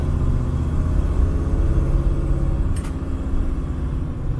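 Car engine fitted with an ACES EFI throttle body, paired with a two-speed Powerglide, accelerating smoothly; a steady, loud low rumble that holds level throughout, with no talking.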